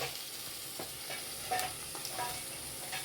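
A spoon stirring a mustard paste curry in a pan, with soft scraping strokes over a steady low sizzle, close and quiet, no voices.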